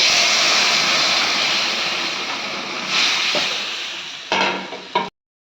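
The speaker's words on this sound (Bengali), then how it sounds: "তেলে জিরা ফোড়ন দিয়ে দেব, শুকনো লঙ্কা দিয়ে দেব, তেজপাতা দিয়ে দিলাম" Cumin, dry red chilli and bay leaf crackle in hot oil in a wok, a loud dense sizzle that slowly eases, then a couple of stirring knocks before it cuts off abruptly.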